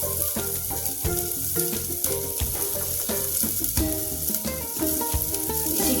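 Green chillies fry in hot oil with a steady, close sizzle and crackle, punctuated by light stirring clicks and scrapes throughout.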